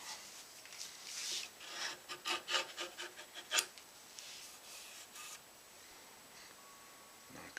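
A dull chisel working wood on a guitar body: close scraping and rasping strokes in an uneven rhythm that builds to one sharp peak, then fades to quiet.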